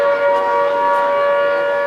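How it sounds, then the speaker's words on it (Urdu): Steady electronic siren sounding before dawn to signal sehri, the pre-dawn Ramadan meal, heard in Nagaur, Rajasthan; a single sustained, even wail holds at constant loudness throughout, with no talking over it. "شہری کا سائرن ہے۔"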